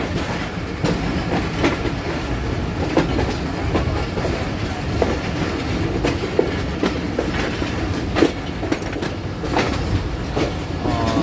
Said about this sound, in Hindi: रहमान बाबा 48 टॉन रावलपिंडी रेलवे स्टेशन पर अप्रोच कर रही है।